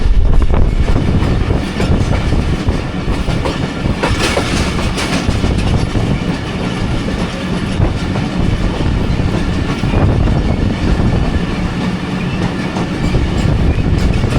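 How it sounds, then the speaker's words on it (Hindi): The 40 Down Jaffar Express passenger train runs through Hasan Abdal station without stopping, its wheels rumbling and clattering loudly and continuously from on board, with rhythmic clacks and faint squeals. "हसनदार रेलवे स्टेशन को स्किप कर रही है 40 डाउन जाफ़र एक्सप्रेस।"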